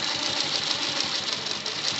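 A sewing machine stitches a kurta collar with a fast, even mechanical whir that runs steadily and close throughout.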